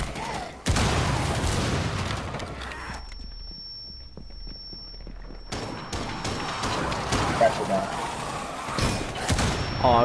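Gunfire and an explosion in Rainbow Six Siege erupt as a loud burst, then drop to quieter shots and clatter before dense firing returns, with voices talking over the action.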